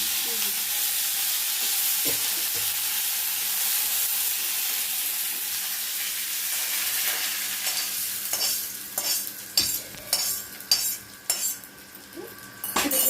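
Curry leaves and coconut sizzle in a kadai while tempering, a steady hiss of hot oil, with sharper spatters and metal clinks toward the end.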